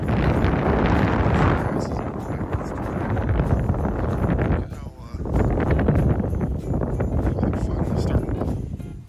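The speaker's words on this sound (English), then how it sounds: "But it is crazy windy. I'm sure you can hear that." Strong outdoor wind gusting around 30 to 40 miles an hour buffets the microphone in a loud, continuous rumbling roar that briefly drops away near the middle before surging back.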